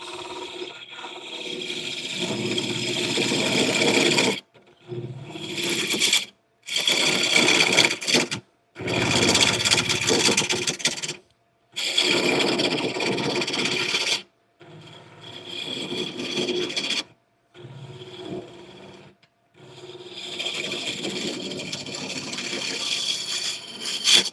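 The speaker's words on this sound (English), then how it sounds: "What type of wood am I shaping? So this is a Padauk." Padauk wood being shaped by hand with a rasp, a near, steady scraping and filing in long strokes broken by several short pauses.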